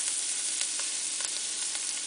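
Pork rib roast browning in a pot, a steady bright sizzle with small pops and crackles, close and continuous.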